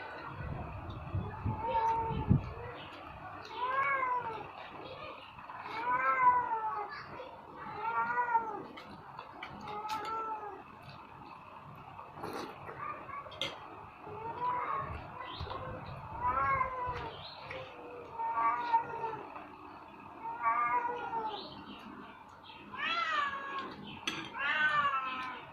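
A cat meows over and over, asking for food beside a meal of bakso and nasi padang, its calls close and insistent in a fairly regular rhythm, with faint clinks of dishes and cutlery between them.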